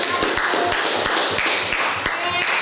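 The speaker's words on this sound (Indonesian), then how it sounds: "kita tepuk tangan dulu untuk kelompok" A classroom audience claps for a group of students with sharp, evenly spaced claps in a quick steady rhythm, and people talk underneath.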